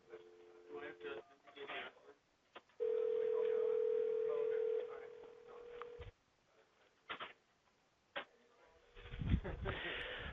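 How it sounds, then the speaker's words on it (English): Dialing an extension on a VoIP phone over a server setup: a steady electronic tone holds for about two seconds, then drops to a softer tone, with short key beeps and clicks between bursts of nearby talk. "We're just dialing extensions."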